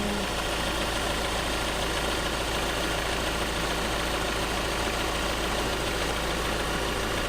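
A steady van engine idles close by, a constant low rumble with even mechanical ticking and no variation in pitch or loudness.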